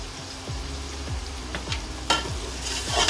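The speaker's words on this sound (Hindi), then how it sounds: "अब इसको भूनेंगे।" Mutton mince with turmeric and crushed coriander fries in a pan for dhaba-style qeema, a loud continuous sizzle broken by repeated scraping strokes of a spatula and a few louder clatters.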